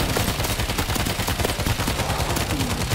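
Machine gun fire in the video game World War Z: Aftermath, a loud, rapid continuous burst of close shots that lasts the whole time.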